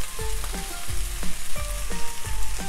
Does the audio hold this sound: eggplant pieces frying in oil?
yes